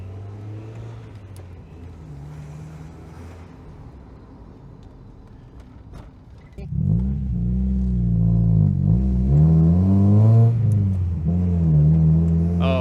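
A 1990 Mazda Miata with a new exhaust, heard from the driver's seat: quiet cruising hum at first, then the engine opens up into a loud, deep, throaty drone that rises and falls in pitch as it accelerates.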